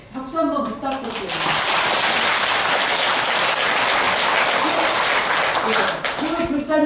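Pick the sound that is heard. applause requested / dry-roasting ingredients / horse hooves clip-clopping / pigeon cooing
applause requested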